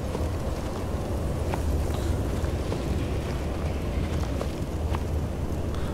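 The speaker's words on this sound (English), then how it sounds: "It's pretty windy in this mine." Steady, rushing wind noise fills a mine in the video game Skyrim, a constant low roar with faint rattles and knocks scattered through it.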